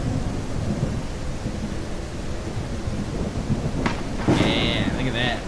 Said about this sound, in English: And then we have rain, thunderstorm.